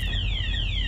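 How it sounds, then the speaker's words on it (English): A quiz show's Sambuca alarm rings loud and close, a steady electronic siren with repeated sweeping tones that runs without a break. "Sambuca alarm went off. Did you hear it?"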